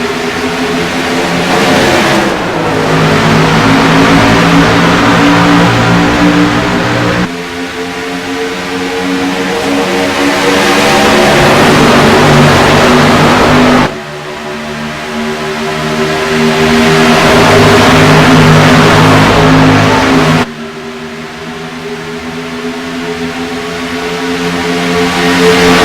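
Race cars accelerate at a race start at Daytona International Speedway, loud engine roars swelling and dropping in repeated waves as cars pass close by, with no talking.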